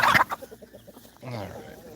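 Hens and a rooster on a homestead cluck in a loud burst at the start, then a run of short, soft clucks follows and a low steady murmur from the flock carries under them.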